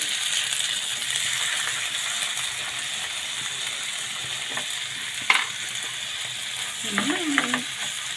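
Corned beef frying in a pan, a steady close sizzle with occasional scrapes and clinks as it is stirred, no talk.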